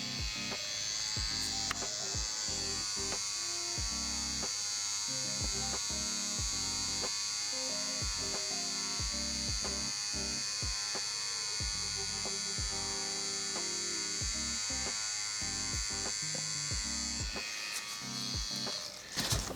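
An electric tattoo machine buzzes steadily and continuously while tattooing skin, a close, even drone with small rhythmic clicks, running almost unbroken for nearly twenty seconds.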